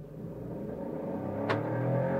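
A turbocharged sedan, a 2023 Volkswagen Virtus Highline or a 2022 Honda City Touring with automatic gearbox, launches from a standstill, its engine rumble and revs building steadily louder, with a brief sharp tick midway.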